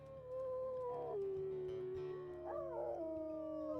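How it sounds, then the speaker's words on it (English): Wolves howl in the WolfQuest video game, long sustained wavering tones, first one voice sliding down and then overlapping howls rising and bending, loud and close over a low steady game soundtrack. "We'll just do some howls here on the border."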